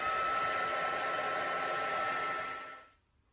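A hair dryer blows steadily on art journal paper strips, a loud, continuous broadband whoosh that runs for nearly three seconds and then cuts off into silence.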